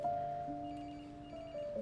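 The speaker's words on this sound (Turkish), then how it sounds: "Telefonlarını açmıyor kızın." A telephone rings with a steady electronic tone that runs continuously and fairly quietly through the moment, with a faint low background hum and no voices.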